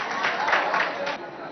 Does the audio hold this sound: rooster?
no